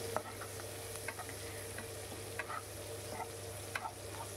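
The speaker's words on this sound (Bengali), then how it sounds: "আমি ভালো করে ভেজে নিচ্ছি পেঁয়াজটাকে" Chopped onion fries in oil in a pan for spicy potato dum, a constant soft sizzle broken by regular light scrapes and taps of a spatula as it is stirred.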